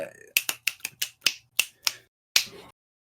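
Fingers snap about eight times in a quick, uneven series, sharp and close, then stop.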